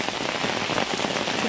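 Heavy monsoon-style rain falls on a flooded road, with water flowing along the street, making a steady, close, unbroken patter and hiss.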